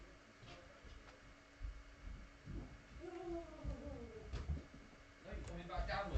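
A house cat meows with a rising, drawn-out call in the middle of a cluttered indoor room, fairly close and moderately loud, alongside bumps and household noise while someone talks nearby.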